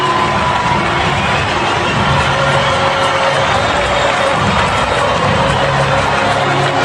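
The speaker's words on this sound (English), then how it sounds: "And even the very best applaud." Dense stadium crowd cheering and applauding after a goal in the Portugal vs Nigeria football match, a steady loud roar of voices and claps with no let-up.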